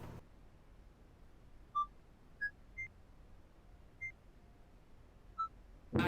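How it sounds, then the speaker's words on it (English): Six short, clear electronic beeps at uneven intervals, pitched a little differently, as a video game keypad is pressed against a quiet hum. "Oh, keypad."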